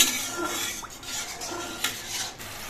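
A yogurt bowl clinks and scrapes as it is rinsed and a bowl of water goes into a simmering mouri parshe fish curry, giving a steady wet, hissing wash with light utensil knocks.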